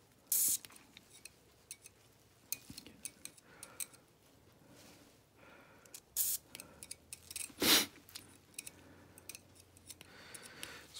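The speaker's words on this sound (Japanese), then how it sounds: "スプレーグリスですね。" Spray grease squirted onto the preload cap of a 1993 Rock Shox Quadra mountain bike suspension fork: short hissing bursts, one loud blast near the end, among quiet clicks and handling noises in a hushed workshop.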